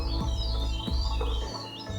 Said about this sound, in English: There's a whole flock of birds just ravaging the trees above our heads.